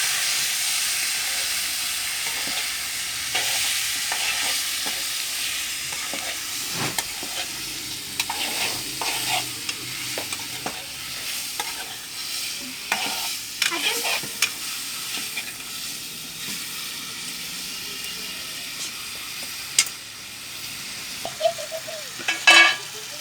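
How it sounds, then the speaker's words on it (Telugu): Chicken with turmeric stirred in a hot frying pan, a steady close sizzle broken by repeated scraping strokes of a spatula, with a few sharper clinks near the end. "ఇప్పుడు చికెన్ కలుపుకుంటున్నాను"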